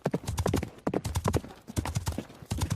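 Horse hooves clip-clop in a fast, steady rhythm, close and clear, as a horse is ridden along.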